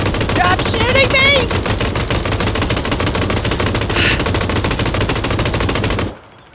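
Rapid automatic gunfire in PUBG, a steady rattle of shots lasting several seconds before cutting off abruptly, with a voice briefly heard over the shooting.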